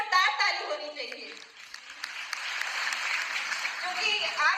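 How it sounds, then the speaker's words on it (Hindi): An audience applauds loudly at a DXN gathering, with dense, steady clapping throughout that dips briefly and then swells again. Voices and a few cheers mix in beneath the clapping. "सबके लिए जोरदार ताली होनी चाहिए"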